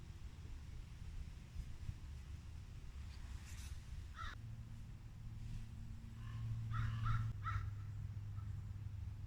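Several crows and ravens caw in short bursts at a moderate distance outside an abandoned asylum, over a steady low rumble of wind or distant traffic.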